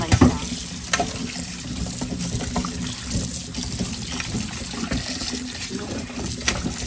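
Kamias (bilimbi) fruit being washed in a basin of water, a continuous close splashing and trickling with sloshing handling sounds throughout, no talk.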